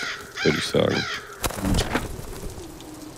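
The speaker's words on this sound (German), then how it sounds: "Oh, das ist ein Rabe oder sowas. Eine Krähe." A crow caws in the video game Zero Sievert, several short harsh calls in quick succession, followed by someone speaking briefly over the game's background sound.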